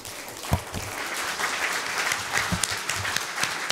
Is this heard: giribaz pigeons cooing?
no